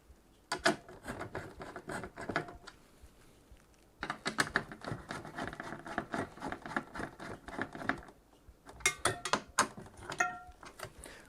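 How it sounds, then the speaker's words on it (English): Screws are driven in while a Kolink Umbra EX180 tower CPU cooler is fitted: close, quiet bursts of small clicking and rattling handling noise, broken by pauses, with no speech. "And just keep going until the screws are fully tightened."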